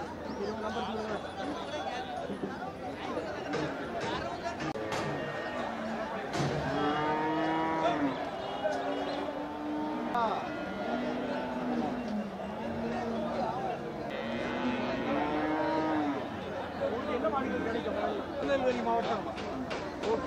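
Cattle at the Melapalayam cattle market, including plough and cart bullocks, moo repeatedly in long, drawn-out calls over constant crowd chatter and nearby talking voices.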